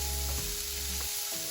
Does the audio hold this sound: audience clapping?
no